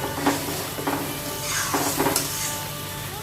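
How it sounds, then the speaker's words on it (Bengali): Spice paste (masala) fries in a wok under a lid, a steady moderate sizzle with a hum beneath it and a few brief rattling bursts. "একটু সময় ঢাকনাটা দিয়ে মশলাটা ভাজা ভাজা হতে থাক"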